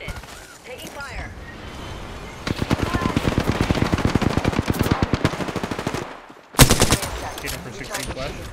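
Sustained rapid automatic gunfire in a video game, loud and close, rattles for several seconds and ends in a final sharp burst, with a player's voice heard alongside.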